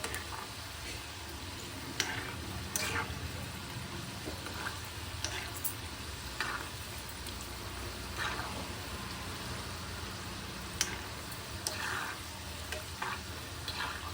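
Wheat flour dough pieces made with jaggery fry in hot oil, a steady close sizzle broken by scattered pops and crackles, with no talking.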